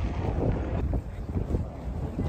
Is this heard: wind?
yes